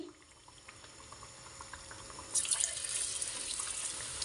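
Gram-flour-coated eggplant slices dropped into deep hot oil: a quiet kitchen hum, then a sudden bright bubbling hiss that stays steady and fairly soft once the pieces are in.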